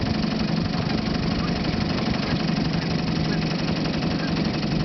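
A 1953 Johnson TN-28 5 hp outboard motor idles with a steady, even drone that stays level throughout, without pauses or changes in speed.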